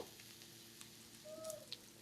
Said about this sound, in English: when you're frying the fish